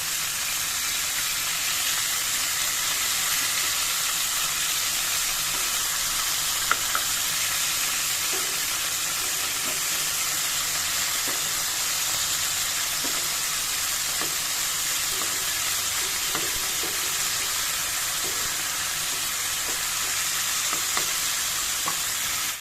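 Boal fish pieces frying gently in oil in a pan, a steady close hiss and sizzle with scattered small crackles and a few light utensil taps.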